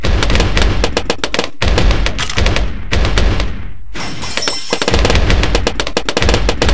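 Rapid, dense popping of balloons in the Bloons TD Battles video game, with crackling bursts that come in quick volleys and leave brief gaps, loud and busy throughout.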